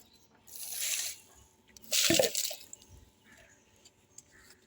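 Water poured from above over a potted plant in hot sun, two splashing bursts of falling water, the second heavier and closer, with faint drips between and after.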